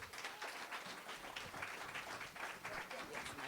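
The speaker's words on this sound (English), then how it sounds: "Please give a round of applause for Shirley Cina." Audience applause for a comedian at a Las Vegas show, continuous scattered clapping throughout at a fairly quiet, distant level.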